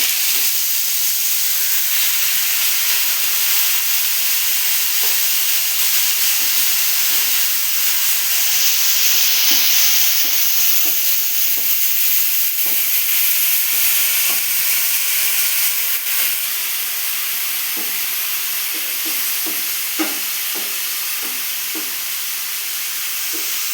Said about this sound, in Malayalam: ഇനി നമ്മളിതിലേക്ക് മാങ്ങ ഇടുന്നു